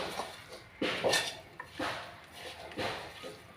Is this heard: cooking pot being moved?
yes